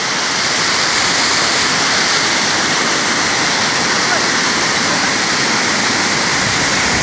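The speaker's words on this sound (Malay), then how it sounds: "Asli air terjun, bos." A waterfall at Curug Deng Deng in Cikatomas pours down in a steady, loud, unbroken roar of rushing water, heard up close.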